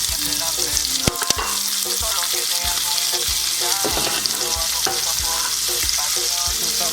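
Vegetables frying in a pan for a Puerto Rican dinner, a loud constant sizzle broken by scattered clinks and scrapes of stirring, with no talking.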